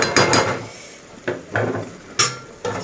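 Metal lid set onto a cooking pot of banana flower curry simmering on a gas stove, a few sharp clanks and knocks spaced through the moment, close and fairly loud with no talk.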